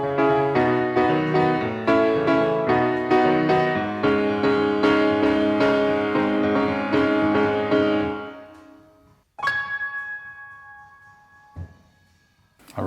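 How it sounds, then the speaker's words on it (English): A dark, moody piano played with a vampy rhythm, brightened and driven by Decapitator saturation and washed in reverb. Dense repeated chords run for about eight seconds, then a few sparse ringing notes sound alone with a long decay. "That just has Decapitator on it, just brightening it a little bit because my piano is kind of quite moody and dark."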